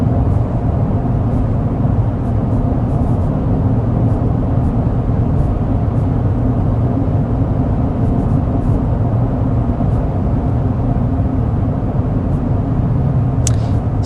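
Steady low cabin road noise inside a 2026 Honda Pilot EX-L on the move, a constant engine and tire drone with a wide even rumble throughout and a faint click near the end, no talking.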